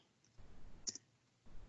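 A single computer mouse click, sharp and close, standing out briefly against a quiet room background.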